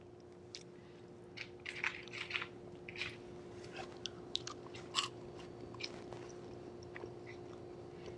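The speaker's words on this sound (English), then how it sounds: "I don't know if you can hear the crunch." Someone chews crunchy toasted walnuts seasoned with Parmesan and Aleppo pepper, close and quiet, with irregular crisp crunches and bites spread over several seconds above a steady low hum, with no talking.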